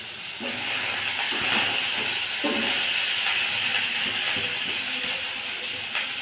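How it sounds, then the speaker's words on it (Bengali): Potatoes and arum roots fry in a hot wok with black cumin seeds, giving a steady, close hiss with faint crackles and occasional stirring scrapes. "এবার কড়াইতে দিয়ে দিয়েছি কালো জিরেটা ভাজা ভাজা হয়ে আসলে এবার দিয়ে দেব আলু আর কচুরমুখিটা ভেজে নেব"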